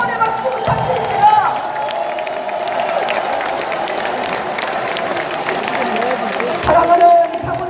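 Crowd of party members applauding and cheering at a Democratic Party convention in Jeonbuk, a steady broad roar of clapping and crowd noise, with louder swells near the start and the end.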